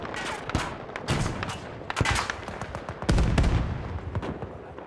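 Video-game gunfire with snipers firing, scattered sharp cracks and booms in irregular bursts over a busy battlefield rumble.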